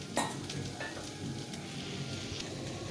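Spice paste of ground green chilli mixed with yoghurt sizzles steadily in a hot pan while curried pointed gourd (potol) cooks, with a few soft clinks of a utensil over the continuous hiss.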